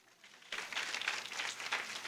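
A church congregation at a worship service breaks into sudden applause, a dense burst of clapping that starts abruptly and carries on steadily, fairly faint in the room.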